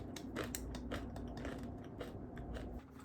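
Granola with peanut butter being chewed close to the mouth, a steady run of crunchy bites and chewing for about three seconds, with no talking.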